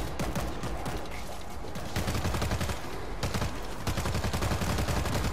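Dense, continuous automatic gunfire in the zombie shooter World War Z, several weapons firing at once in a loud, unbroken roar with only brief dips, no voices heard over it.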